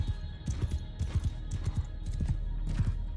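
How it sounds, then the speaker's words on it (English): Horse archers' hooves galloping toward the line in the video game Bannerlord, a steady, busy clatter of many hoofbeats with faint whinnies over a constant low rumble. "Here comes their huge fucking wave of horse archers."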